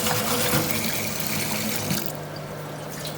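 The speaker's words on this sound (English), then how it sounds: "I like to give it a little bit of a rinse in cold water" Water runs steadily from a cold tap and splashes as something is rinsed, loud at first and easing slightly as the flow continues, with no talking.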